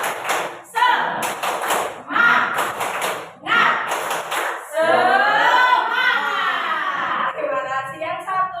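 A group at an Indonesian teachers' positive-culture workshop performs the rhythmic 'tepuk semangat' clap: several loud, close bursts of claps with chanted voices, then a long sustained group shout.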